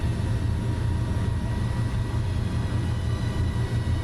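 A PC-12 turboprop in Microsoft Flight Simulator climbing after takeoff, producing a steady, loud engine drone with low rumble that holds constant throughout.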